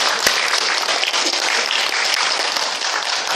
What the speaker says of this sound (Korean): 여러분 뜨거운 박수로 축하해 주시기 바랍니다